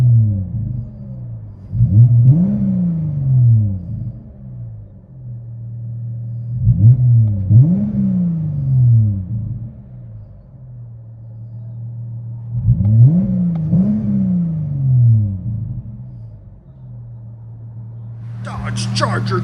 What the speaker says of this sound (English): V6, all-wheel drive, resonator delete, and vibrance in its place. Came out sounding perfect.